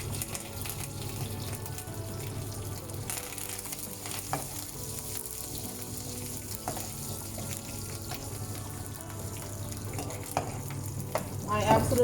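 Rampe, curry leaves and chili frying in oil in a pan, giving a steady close sizzle with occasional stirring clatter throughout.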